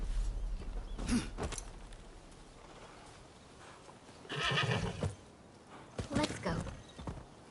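Horse in the samurai action game Rise of the Ronin gives a couple of loud whinnies with clip-clopping hooves, each burst short and separated by quieter pauses.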